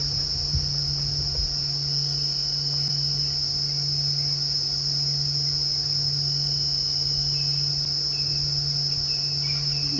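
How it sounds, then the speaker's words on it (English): Crickets chirping at night during a safari drive in the African bush, a steady, continuous high trilling chorus that holds throughout, with faint low rumbles underneath and no talk. "No, I can just hear crickets making lots of noise."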